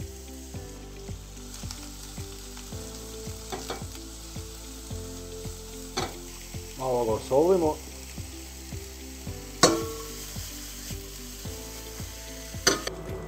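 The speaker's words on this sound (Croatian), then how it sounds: "Na zagrijanu mast prvo stavimo luk." Onion fries in hot pork lard in a pan, giving a continuous crackling sizzle with occasional clinks and scrapes. A voice speaks briefly over the frying.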